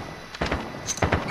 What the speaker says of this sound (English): Throwing stun!